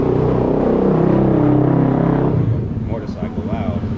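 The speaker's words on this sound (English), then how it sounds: "Motorcycle loud." A loud motorcycle roars past close by, its engine drone swelling for a couple of seconds and then dropping away as people start talking.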